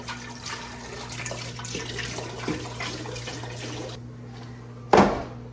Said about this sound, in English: We're gonna pour all 3 of them in there.